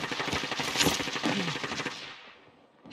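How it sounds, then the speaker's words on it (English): Gunfire in the Call of Duty Warzone video game, Plunder mode: a loud close burst of rapid automatic shots with sharp cracks over the first two seconds, fading into quiet before another sound rises. "Receiving hostile fire."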